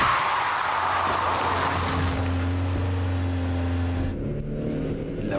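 A car approaches on a road at around 50 km/h, a steady engine and tyre rumble with a low droning tone that holds and then shifts near the end, heard alone without talk.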